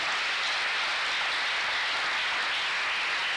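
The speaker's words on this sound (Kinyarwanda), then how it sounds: "Kadukomere Imana amashyi kubw'ijambo" Church congregation applause after a sermon passage, a dense, steady wash of many hands clapping with no break, fairly distant and even.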